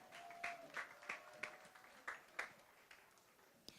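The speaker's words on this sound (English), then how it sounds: "Let's hear it one more time. One big round of applause for Keshia." Scattered hand claps from a small group at an outdoor back-to-school fair, sparse and uneven rather than a full ovation, with faint voices underneath.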